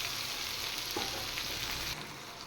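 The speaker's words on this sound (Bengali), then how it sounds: "এবার হলুদ নুন দিয়ে মশলাটা একটু কষিয়ে নেব।" A paste of mustard, ginger and onion sizzles in a hot pan as it is sautéed and stirred, a dense close hiss with a brief scrape that eases slightly near the end.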